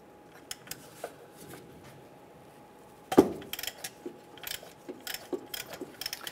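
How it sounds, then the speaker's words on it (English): A 27 millimeter socket works an oil cooler sensor loose on a 2008-2013 Nissan Rogue: faint scattered mechanical clicks, with one sharper knock midway and a run of light ratcheting taps after it. "We're going to go ahead and remove that sensor. Use our 27 millimeter"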